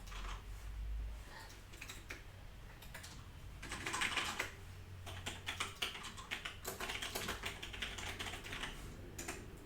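Fingers type on a computer keyboard in quick bursts of soft clicking keystrokes, close and quiet, pausing briefly between runs of keys over a low background hum.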